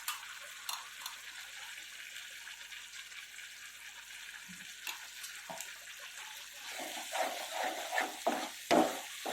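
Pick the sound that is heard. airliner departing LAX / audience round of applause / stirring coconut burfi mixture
stirring coconut burfi mixture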